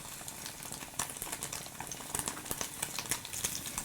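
Vegetables and tofu sauté in hot oil in a pan, giving a steady close sizzle and crackle with occasional sharper pops and spatula stirs, and no voices.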